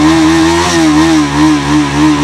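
A Bajaj Pulsar NS200 BS6 motorcycle engine revs steadily and loudly up close, its pitch rising and falling gently over a couple of seconds.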